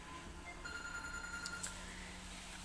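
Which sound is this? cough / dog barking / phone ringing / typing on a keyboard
phone ringing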